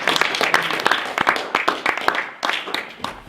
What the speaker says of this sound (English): So give Cooper a round of applause